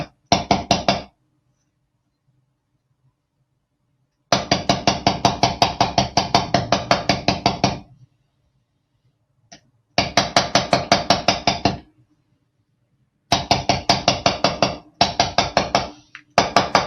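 Bursts of rapid, regular hammer taps on metal wire being shaped into hoop earrings, each run lasting a few seconds, separated by silent pauses.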